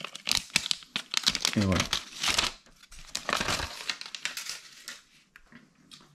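Crinkly protective paper peeled and crumpled off a new Xiaomi 14 Ultra phone, rustling and tearing in close bursts while someone speaks over it.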